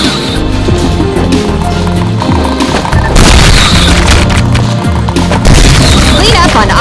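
Bowling bomb explosions in the retro first-person shooter Ion Fury, heavy booming blasts and crashing debris piling up over dense game music, growing louder and denser toward the end.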